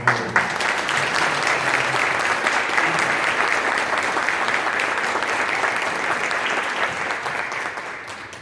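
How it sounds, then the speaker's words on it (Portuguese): Steady, dense applause from a lecture audience after a talk on the five pillars of mental health, sustained for several seconds and fading slightly at the end, with no voices over it. "Uma salva de palmas."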